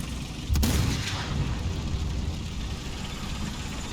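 A single heavy cannon boom from a tank in War Thunder ground simulator battle, sharp and loud near the start, then a rumbling engine drone carrying on underneath, no talk.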